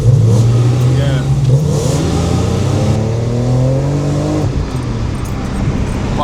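A 600-horsepower, E85-fuelled BMW E46 M3 engine revs hard through a second-gear pull, a loud, rising mechanical roar that holds for several seconds with engine tones climbing in pitch; a voice talks over part of it.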